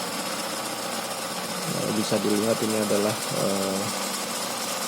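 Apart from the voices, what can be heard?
feed mixing machine running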